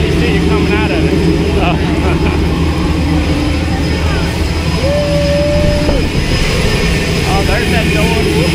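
Skydiving jump plane flying with its door open, a loud continuous engine and wind roar filling the whole stretch, with a brief tonal whine near the middle and people talking over it.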